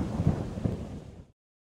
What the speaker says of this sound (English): Then, one day, a terrible storm came.